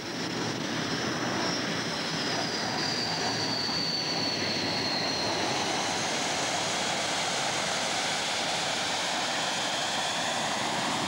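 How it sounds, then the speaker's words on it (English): A jet trainer aircraft's engine runs steadily on the ground after start-up, with a loud, continuous roar and a high whine, with no speech. "The intake guards removed and the engine started."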